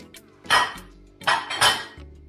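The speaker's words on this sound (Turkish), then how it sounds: "Hemen ardından başkanım böyle haşlanmış eriştemizi ilave ediyoruz" Boiled noodles are tipped into a bowl of green lentil salad, giving a couple of close clattering scrapes and clinks of utensil against the bowl, brief and fairly loud.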